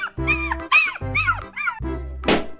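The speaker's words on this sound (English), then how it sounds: "Dog." Cartoonish dog barks from an animal video game, three or four close yipping barks in quick succession, followed by a short bright clatter.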